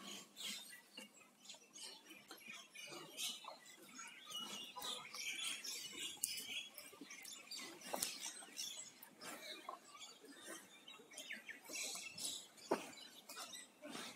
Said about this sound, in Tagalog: Dami ditong ibon.